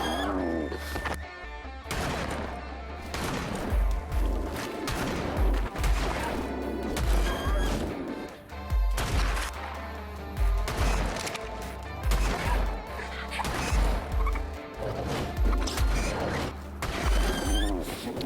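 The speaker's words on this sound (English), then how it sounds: "And then he gets to blasting with the shotgun." Loud, repeated shotgun blasts during a video game fight with bats, each boom sharp and heavy, fired in rapid bursts with brief gaps between them, over a busy game soundscape.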